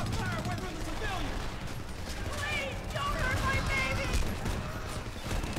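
Gunfire in the Homefront shooter game, a continuous clatter of shots and mechanical rattle under steady battle noise, with voices talking over it throughout.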